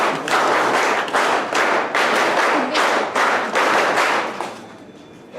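Audience applause at a scouts' event in Nashik, India: a sustained, dense burst of clapping from a crowd, loud and steady for several seconds before fading out at the end.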